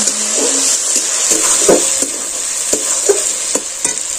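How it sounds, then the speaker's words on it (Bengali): Garlic and ginger paste fries loudly in hot oil for ghugni while a spoon stirs it, a constant bright sizzle with regular close scrapes and knocks of the utensil against the pan. "দিচ্ছি রসুন বাটা, আদা বাটা, আবার এটাকে আমি খুব ভালো করে নেড়ে চেড়ে নিচ্ছি। এটাকে আমি কিন্তু লাল লাল করে একটু ছড়িয়েই ভেজে নেব।"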